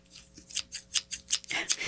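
Milwaukee utility scissors snipping in repeated crisp cuts, about eight quick strokes in a steady rhythm, close and clear with no talking.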